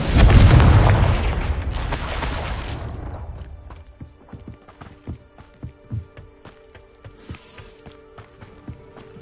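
A Confringo spell explodes in the video game Hogwarts Legacy: a loud, heavy blast that rumbles and fades over a few seconds, followed by a run of quick, light footsteps.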